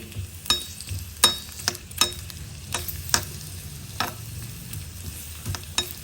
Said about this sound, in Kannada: ಈರುಳ್ಳಿಯನ್ನು ಚೆನ್ನಾಗಿ ಹುರ್ಕೋಬೇಕು ಎಣ್ಣೆಯಲ್ಲಿ